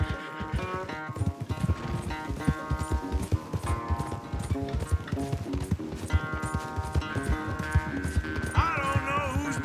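Horse galloping in a race in the Red Dead Redemption 2 video game: steady, rapid hoofbeats pound throughout, close and loud under driving game music.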